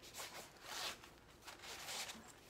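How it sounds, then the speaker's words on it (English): Zipper being pulled closed around a zip-up organizer case, several quick, close, faint rasping strokes with no talk. "it completely zips up"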